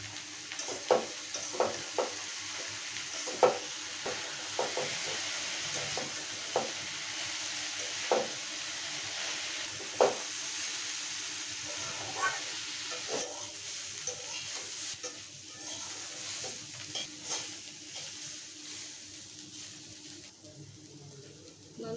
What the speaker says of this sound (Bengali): আমি উচ্ছে আর আলুটা মিডিয়াম ভেজে নিয়েছি